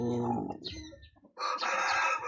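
Chickens by an incubator cluck and call close by in a short, quiet burst, a low clucking first and then a brighter, higher squawk.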